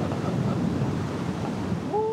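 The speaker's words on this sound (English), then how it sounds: "because that wind was extreme" Strong, gusty wind buffeting the microphone at the top of Blackpool Tower, a loud continuous rumbling roar, with a brief voice sound at the very end.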